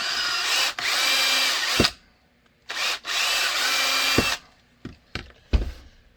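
Power drill boring into a clamped Sig P229 part, running in two long loud bursts that stop abruptly, followed by short clicks and brief handling knocks.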